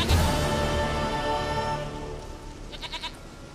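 Goat bleating in the video game The Witcher 3, heard over a dense swell of game music and ambience that fades, followed by a few short wavering bleat-like pulses near the end.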